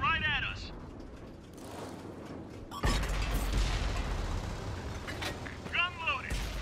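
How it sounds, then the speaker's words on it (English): Tank gun reloading in World of Tanks, with a sharp mechanical clank followed by a heavy rumbling burst amid game noise and a brief voice. "Gun loaded."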